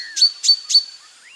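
A cartoon character imitates a bulbul bird's call with the voice, three quick, bright chirps in even rhythm, clear and alone, followed by a faint trailing whistle.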